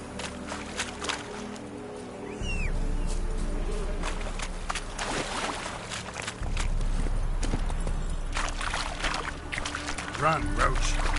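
Horse hooves clip-clop steadily in an open-world video game as the rider urges the mount on, the rhythmic footfalls running under game music and ambient sound, with a voice speaking over it.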